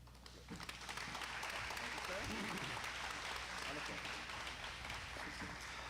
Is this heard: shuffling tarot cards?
no